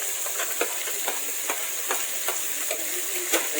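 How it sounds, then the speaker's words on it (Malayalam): Chopped green chillies hit a hot pan while cooking a spicy goat head curry, giving a steady close sizzle with light scraping stirs at regular intervals, no voices. "അപ്പോൾ ആ ഒരു പച്ചമുളക് ഇതിലേക്ക് ചേർത്ത് കൊടുക്കാം."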